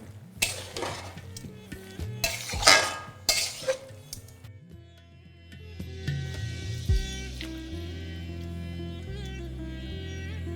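A metal spoon clinks and scrapes several times against a pot of masoor dal with bottle gourd and potato, then water is poured in and the pot settles into a steady, low bubbling hum.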